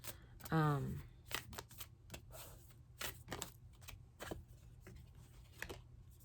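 A tarot card deck is riffled and shuffled close up in a string of quick crisp flutters and taps, with a short spoken moment near the start.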